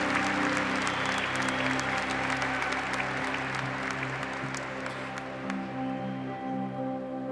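Congregation applauding during an afternoon Mass, steady sustained clapping from a large crowd filling the church, with organ or keyboard tones sounding underneath and the applause thinning slightly toward the end.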